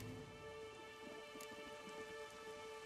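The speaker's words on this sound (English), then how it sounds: "Oh, and it's raining." Steady rain falls in The Witcher 3 during a storm, a dense, even hiss of drops on surfaces with a single brighter crackle partway through, faint and continuous with no voices.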